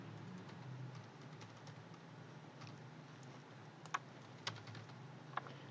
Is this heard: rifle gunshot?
no